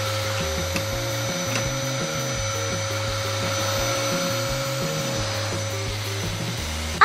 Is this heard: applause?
no